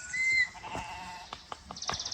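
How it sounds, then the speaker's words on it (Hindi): Sheep and goats bleat in a high mountain meadow with Gaddi shepherds, a few short, faint calls spaced out over quiet open-air background. "बीच में हल्की हल्की आवाज़ें भेड़ बकरियों की"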